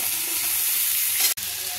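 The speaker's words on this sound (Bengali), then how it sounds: "এবার এর মধ্যে দিয়ে দেবো এই যে কেটে রাখা সবজিগুলো। সবজিগুলো 5 মিনিট ভেজে নেব" Chopped vegetables sizzle steadily and loudly in a hot pan, with a brief dropout near the end before the frying resumes.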